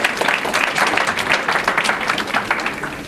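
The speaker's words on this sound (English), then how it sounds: "give them a little round of applause" An audience at a presentation in a school library claps for student presenters, a dense, steady patter of many hands that stays fairly close and even for a few seconds.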